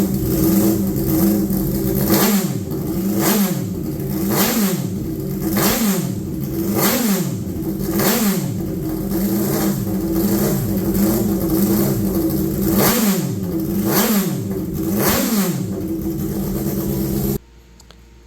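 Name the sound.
race car engine revving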